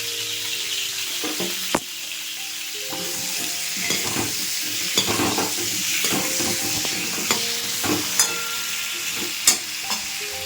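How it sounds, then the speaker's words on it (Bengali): Bitter gourd fries in ghee in a pan, sizzling steadily and close while a spatula stirs and scrapes in uneven strokes, with occasional sharper knocks against the pan. "এরপরে ঘি করলাগুলো ভেজে নেব"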